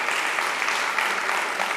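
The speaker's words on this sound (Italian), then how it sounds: "facciamo loro un applauso che sono veramente splendidi" An audience applauds dancers at a dance show with steady, dense clapping that stays even and full throughout, with no voices standing out.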